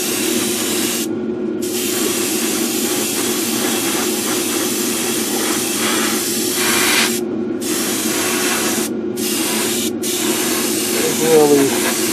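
Spray can or airbrush laying a final coat of paint on a scale model, a steady continuous hiss broken by several short pauses between passes, close and fairly loud.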